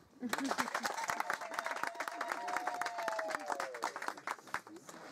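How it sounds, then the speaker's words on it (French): An audience applauds a school director at a peace gathering of young Christians in the Democratic Republic of Congo. The clapping is dense and steady, with some cheering and voices mixed in, and it holds for about five seconds. "Vous pouvez l'applaudir."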